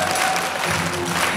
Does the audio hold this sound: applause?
yes